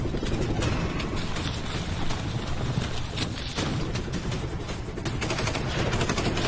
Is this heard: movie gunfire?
yes